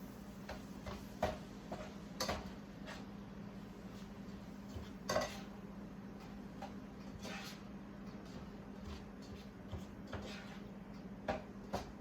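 Stuffed pepper filling of ground turkey and brown rice being mixed in a bowl, giving soft repeated clinks and scrapes of a utensil against the dish over a steady low hum, with no talking.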